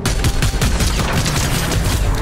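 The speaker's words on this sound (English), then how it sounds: "I'm actually hitting so many shots right now." Rapid bursts of gunfire in a Fortnite match, loud and dense with repeated sharp shots layered over low booms, running steadily throughout.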